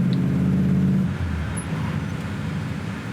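A 1965 Chevrolet Impala SS cruises along, its engine and road noise forming a steady low drone heard from inside the car, fairly loud and even, with a brief shift in tone early on.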